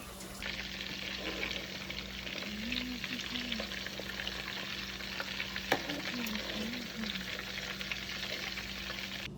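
Steady crackling sizzle of Scotch eggs frying in oil, continuous and moderately quiet, with a faint hum underneath and no voices.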